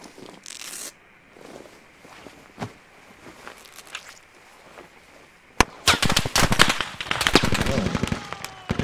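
Gunfire in the Squad military shooter, fired from far off in the mountains: scattered single cracks at first, then a dense burst of rapid shots over low ambience, with players talking over the radio.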